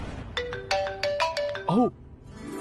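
A mobile phone ringtone plays a short electronic melody of stepped tones followed by a quick warbling phrase, loud and close, then fades into room noise.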